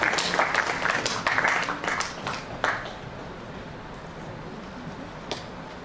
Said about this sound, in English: Please give a big round of applause for Meera Das ji.